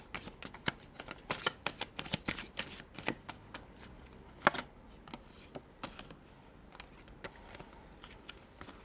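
Tarot cards shuffled and laid down: a rapid, uneven patter of crisp card slaps and riffles, close and fairly quiet, continuing for several seconds with no talking.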